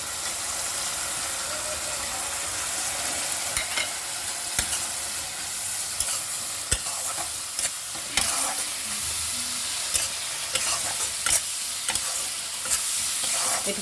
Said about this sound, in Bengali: মশলাটা কষিয়ে নিলাম